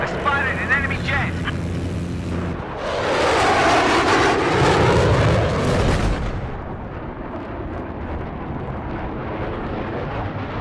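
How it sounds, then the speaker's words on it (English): An enemy stealth jet in a first-person shooter video game roars overhead on the Hangar 21 map, a loud rushing whoosh that swells for several seconds and then fades, with game voices and battle noise around it. "I spotted an enemy jet!"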